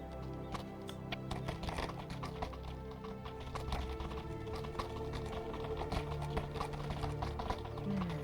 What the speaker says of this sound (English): they will hear tens, if not hundreds, of horses riding through